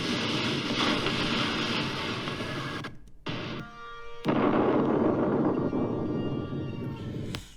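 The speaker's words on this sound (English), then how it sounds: "we've got more and more explosion noises going back and forward from siren" Loud, booming explosion effects rumble continuously, broken by a couple of brief sudden drop-outs before the blasts resume at full strength.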